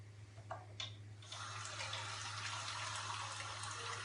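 Hot water pours steadily into rfisa dough, a broad continuous gush that swells after a brief start and runs on without a break, close and fairly loud over a low steady hum.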